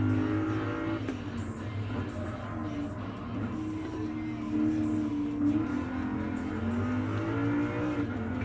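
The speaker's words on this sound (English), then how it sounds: "we're now driving a basic civilian edition of Lexus" Basic civilian Lexus driving in GT Sport, a steady engine drone that rises and falls in pitch as it accelerates and shifts, close and continuous, no voices.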